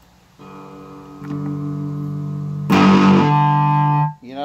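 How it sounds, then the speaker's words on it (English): Cigar box guitar played through fuzz and distortion, sustained buzzy chords that swell louder in steps, then a bright saturated strum that rings and cuts off abruptly, close and loud with no talking. "You notice it a little more fuzz and distortion there."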